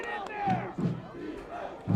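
A crowd at a high school varsity football game chants in rhythmic bursts during a tense third-down play, loud voices rising and falling in unison, with a few brief pauses between the shouts.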